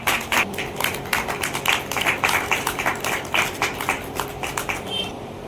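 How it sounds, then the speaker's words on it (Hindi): A welcoming round of audience applause at a literary session, heard as scattered, rhythmic clapping with distinct individual claps rising and falling in clusters before tapering off near the end. "तालियां।"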